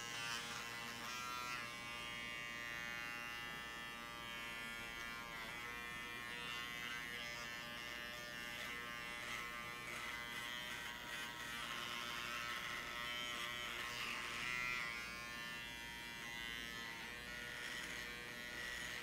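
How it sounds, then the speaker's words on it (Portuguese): Kemei electric hair clipper cutting a man's hair at its low lever setting in a traditional short cut, a steady close buzz running throughout with slight shifts in tone as the blades move. "Estou usando a máquina aqui, ó, só com a alavanca baixa"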